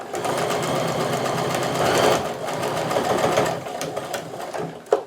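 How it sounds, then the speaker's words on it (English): A domestic sewing machine stitches a scant quarter-inch seam along a drawn line on quilt triangle pieces, running as a steady close whirring hum that keeps going for the whole stretch. "So now I'm going to sew another scant 1/4 inch seam down either side of this drawn line."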